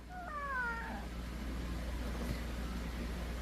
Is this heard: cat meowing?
yes